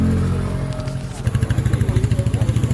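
A motorcycle engine sits close by at a road accident scene in Thottakkad. A steady low rumble gives way to a rapid, even thumping idle that continues to the end, with faint background noise around it.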